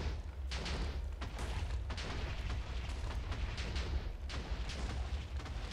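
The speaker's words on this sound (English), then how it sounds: "Then we can see our nice explosions." Repeated booming blasts of TNT going off in a block-building video game, a dense, continuous rumble with sharper bursts punctuating it every second or so, loud and without talk.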